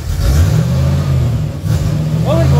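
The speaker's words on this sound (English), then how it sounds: "Give it a rev, Trev." 1954 Oldsmobile engine revving loudly up close, a throaty sustained roar that dips briefly and climbs again, with a voice speaking near the end.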